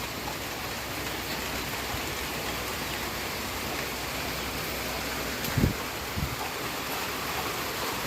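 Heavy, continuous rain during Typhoon Goring in Iloilo pours as a steady broadband hiss, with a couple of brief dull knocks partway through and no talking.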